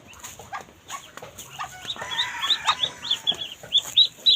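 Several chickens cluck near a hen with four newly hatched chicks, with short repeated calls and sharper clucks coming in quick succession and growing busier and louder toward the end.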